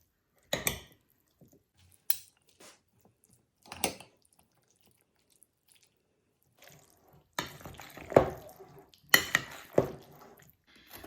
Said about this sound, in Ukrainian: Двома ложками легенько перемішую.